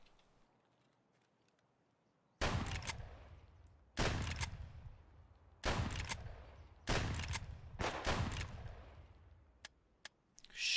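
Loud video game gunfire in heavy separate bursts, each a booming shot with a long ringing tail, spaced a second or two apart, followed by a few sharp lighter clicks.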